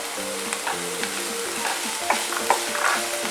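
Cheese fries alongside lightly browned onions in a pan, giving a soft crackling sizzle broken by several spatula scrapes and taps, heard close up with no one speaking.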